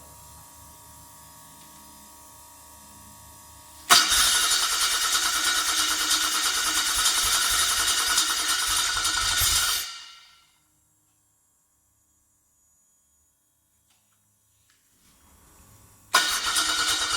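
An engine fitted with a Rotec TBI and 0.3 mm jets bursts into a loud, buzzing run after a low hum, keeps going for about six seconds, cuts out to near silence, then fires up again.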